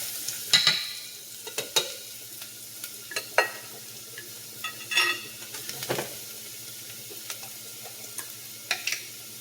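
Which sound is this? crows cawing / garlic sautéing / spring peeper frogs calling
garlic sautéing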